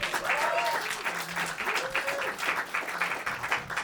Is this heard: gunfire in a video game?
no